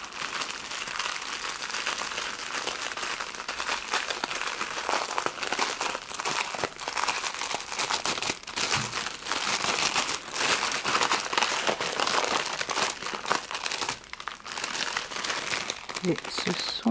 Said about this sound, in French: On va quand même ouvrir le paquet.